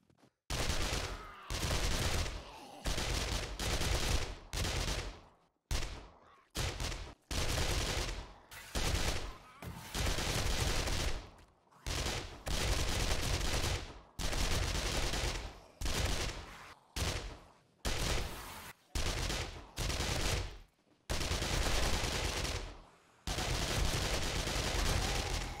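Sustained automatic gunfire in the video game 7 Days To Die, loud dense bursts lasting several seconds each, broken by brief silent pauses as firing stops and restarts, with no speech.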